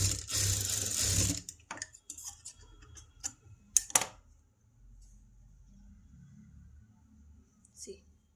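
A sewing machine hems a princess-cut blouse with a boat neck in a brief dense whirring burst at the start, followed by scattered clicks, fabric handling and soft speech.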